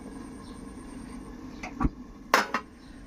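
A metal lid goes onto a cooking pot of dried fish curry with a few sharp clinks, the loudest coming late, over a quiet background hum.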